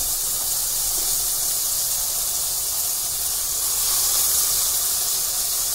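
Spice paste sizzles loudly in hot oil for a mackerel fry, a dense, constant hiss that swells slightly partway through, with no talking.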